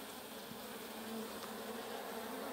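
Honeybees drone steadily at an opened hive of a weak colony, a dense, continuous close hum with no voices.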